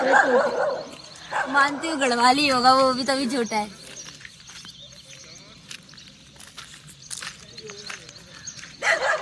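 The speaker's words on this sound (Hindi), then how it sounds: "यहाँ पे कुत्ता भौंक रहा है" A dog barks in a burst of rapid, excited yelps near the start while someone talks, then the scene quiets to faint background sounds, with another short sharp sound at the end.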